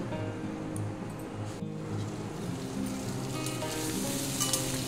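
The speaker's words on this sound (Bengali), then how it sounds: "একদম স্লো গ্যাসে এটা 2-3 মিনিট আমি একটু ভেজে নেব" Potatoes seasoned with plenty of black pepper fry gently in ghee over a low gas flame, with a continuous soft sizzle and a faint low tonal hum beneath it.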